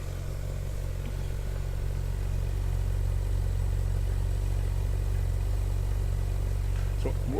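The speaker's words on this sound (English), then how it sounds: "So we're listening to the tone of the exhaust." A 2013 Ferrari 458 Spider's exhaust idles steadily close by, a deep, even engine drone with no misfires or roughness, continuing unbroken without talk.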